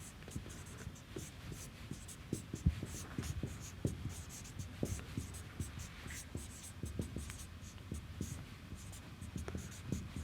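Pen strokes scratching out equations by hand on paper, a steady run of short scraping marks and taps, close and fairly quiet, with no voice.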